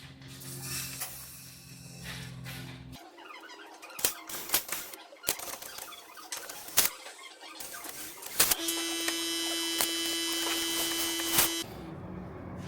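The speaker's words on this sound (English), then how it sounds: "You can hear air coming out of the inlet." Pressurized air hisses and whistles out of the inlet of a Ford Ranger engine whose valves were bent by a snapped wet belt, fed through a tyre valve on cylinder one. A steady, fairly loud whistling tone holds for about three seconds among scattered clanks and knocks.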